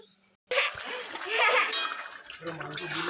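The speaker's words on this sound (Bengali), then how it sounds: "অল্প করে জল দেবো।" Water splashes into a pot of cooked-down meat for biryani, a short close pour with splattering and trickling, accompanied by someone talking over it.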